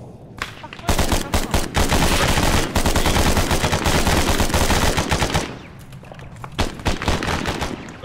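Arma 3 firefight with sustained automatic gunfire, dense rapid bursts of rifle and machine-gun shots for several seconds, then a brief lull before scattered shots resume, loud and close.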